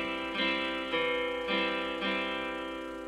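Acoustic guitar accompaniment in 3/4 time, a bass note on the first beat and three-string chords on the second and third, with four evenly spaced strums ringing close and clear, alone.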